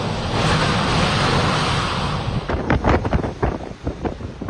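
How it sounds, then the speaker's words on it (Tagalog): Raging rain and wind from Typhoon Leon batter Batanes, heard from inside a police headquarters: a dense, roaring wash of wind and rain, then heavy gusts that buffet the microphone in uneven surges. "Mula sa loob ng Batanes PPO Headquarters, ramdam na ramdam ang tila nagngangalit na ulan at hangin."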